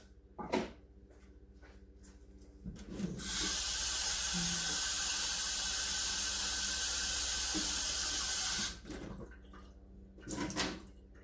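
A kitchen tap is turned on and water runs steadily into a measuring cup with a broad hiss for about five seconds, then shuts off, with clunks and handling noises before and after.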